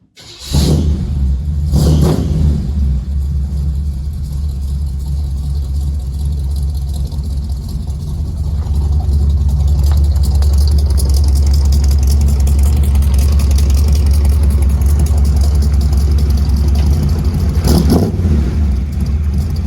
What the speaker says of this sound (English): I'm gonna go ahead, drive this out of here so we can look at it a little better outside.